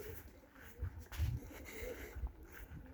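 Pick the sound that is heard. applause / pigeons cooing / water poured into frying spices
pigeons cooing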